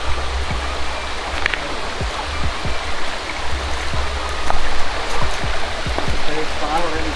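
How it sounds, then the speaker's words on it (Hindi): River water from Tiru waterfall flows steadily downstream in a continuous broadband rush, with scattered splashes and knocks close by as people wade across. "जो वो तिरुफोल का झरना है वहाँ से पानी गिर रहा है, वही पानी बह के इधर आ रहा है।"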